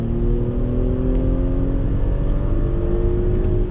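A 2020 Audi SQ5 performance SUV accelerating hard, a loud, steady engine drone with rising whine that stays close and continuous throughout, no talking.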